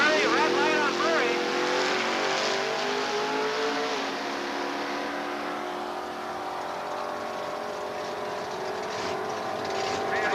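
Drag racing cars including a 1975 Chevrolet Camaro and a Chevy Nova: loud engine revving with rising whines that settles into a sustained roar, under a public-address announcer's voice.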